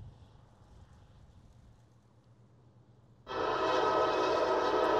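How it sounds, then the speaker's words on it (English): Freight train M500 approaching northbound at Nortonville, Kentucky: a faint distant rumble suddenly gives way to a loud, sustained horn blast. "Here comes M500 heading northbound at Romney."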